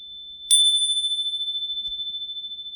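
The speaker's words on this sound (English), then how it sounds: "My beautiful bell from Japan." A single bright strike of a Japanese bell rings out clearly and then sustains a long, steady, shimmering tone that slowly fades, with no talking.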